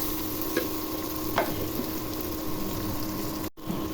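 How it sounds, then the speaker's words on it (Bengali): Chopped onions frying in hot oil for a tilapia and vegetable curry, a steady low sizzle with a few faint clinks of stirring, no talk. "পেঁয়াজগুলো ভেজে নিব।"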